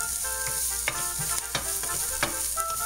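Egg white scramble with onions, garlic and other vegetables sizzling steadily in a pan, with a few sharp stirring scrapes and pops breaking through the continuous fry.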